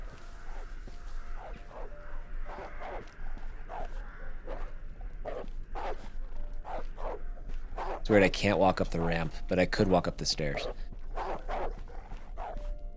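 A dog barks in short bursts, several yips in a row, inside the horror survival game DarKnot, with someone talking over the barking throughout.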